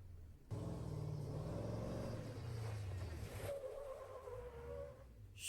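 A custom Mad Max style truck's engine gives a loud, steady low rumble that fills about five seconds close to the microphone, with a revving swell that rises and falls near the middle.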